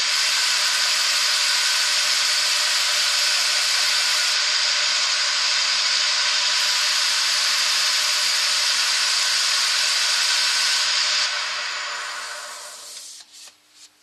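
Steady abrasive hiss of 400 grit paper rubbing the edge of a spinning 11-inch sycamore bowl on a lathe, loud and continuous, then fading as the lathe spins down at the end.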